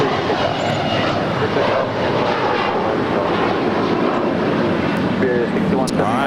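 An Air Canada airliner takes off at LAX with a loud, sustained engine roar, near and dense throughout, while a voice talks over it.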